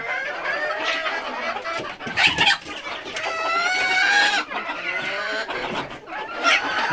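Laying hens at a small poultry farm cluck and cackle nearby in a loud, continuous chorus, with harmonic calls rising and falling and a crow-like cry in the middle.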